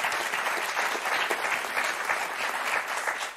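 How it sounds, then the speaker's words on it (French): A studio audience on a French TV game show applauds loudly and steadily, dense clapping filling the whole stretch without a break. "on vous applaudit très fort."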